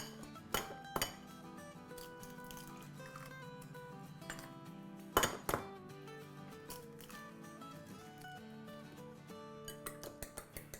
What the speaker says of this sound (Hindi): उनको फेंट लेते हैं